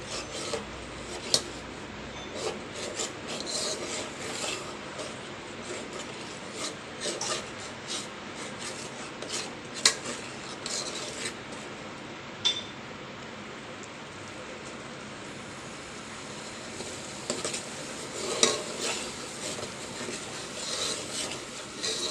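Butter simmering into ghee in a pan while being stirred nonstop with a spoon, a continuous close rasping scrape against the metal with light bubbling and a few sharper clinks.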